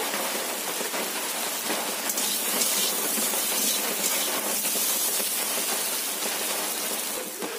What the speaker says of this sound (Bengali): কুমড়োগুলো খুব ভালো করে ভেজে নেব, লাল লাল করে।